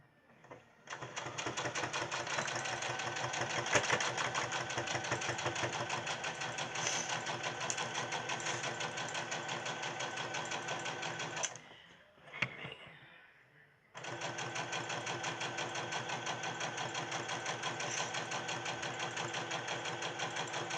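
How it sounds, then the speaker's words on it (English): Sewing machine stitching around a fabric gift bag, running steadily and loudly for about eleven seconds, briefly stopping with a clunk, then whirring on again without a break. "you're going to sew all the way around to the bottom and the side."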